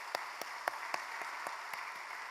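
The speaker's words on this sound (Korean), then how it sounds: "우리를 위해서 말씀 전해주시고 또 선교 보고해 주신 김옥수 선교사님께 다시 한번 감사의 박수 드리겠습니다." Applause from a church congregation at a Wednesday prayer meeting, thanking a missionary, heard as a soft, steady patter of clapping with a handful of distinct louder claps spaced through it, fairly distant and without speech.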